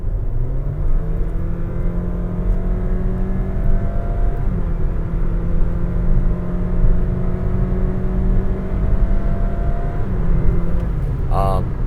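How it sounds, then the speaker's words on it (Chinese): The engine of a 2023 Honda HR-V RS gives a steady, sustained drone whose pitch holds and shifts slightly, heard from inside the car, with talking over it near the end. "高亢、有一点尖的引擎声浪。"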